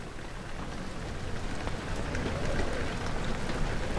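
Steady rain falls in the video game Amnesia, a dense continuous hiss of raindrops on surfaces, fairly loud and unbroken throughout with no voices.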